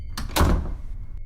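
A door swings shut with a solid thunk, preceded by a lighter knock or latch sound, close by in a quiet indoor room, with faint room noise lingering afterward.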